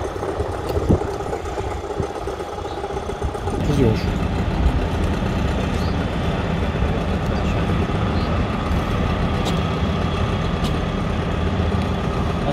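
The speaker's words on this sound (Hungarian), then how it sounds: "Az jobbra megy el a teherhajó" A cargo ship's engine rumbles as it passes on a river at a waterway junction, a steady, deep, continuous drone that grows slightly fuller partway through, with people talking over it.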